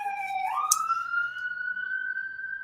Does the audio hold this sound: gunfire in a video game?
no